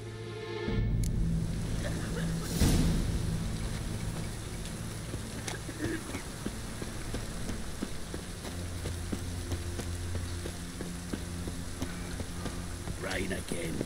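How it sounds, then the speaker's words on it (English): Steady rain pours over a town in The Witcher 3, an even, continuous hiss with scattered soft taps and thuds and faint murmuring underneath. "Rain again."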